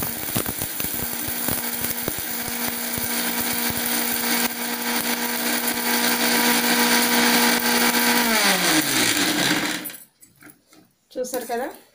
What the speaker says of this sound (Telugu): ఇప్పుడు ముందుగా మనం మిక్సీ జార్ తీసుకొని ఈ ధనియాలు ఎండుమిర్చి ఉన్నాయి కదా అవి వేసుకుందాం